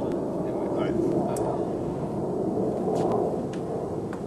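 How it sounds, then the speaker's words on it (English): An airplane passes overhead as a steady, broad roaring rumble that holds at an even level throughout. "here comes one of those airplanes again"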